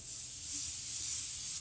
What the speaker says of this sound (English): Then I go in with a setting spray.